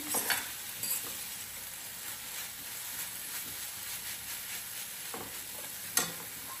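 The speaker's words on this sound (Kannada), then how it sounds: "ತೆಂಗಿನಕಾಯಿ ಒಂದು ಸ್ವಲ್ಪ ಫ್ರೈ ಆದರೆ ಒಂಥರ ಟೇಸ್ಟ್ ಚೆನ್ನಾಗಿರುತ್ತೆ ಅಷ್ಟೇ" Grated coconut fries in a hot pan with a soft, steady sizzle and occasional stirring scrapes. The sizzle is close but quiet, and no one speaks.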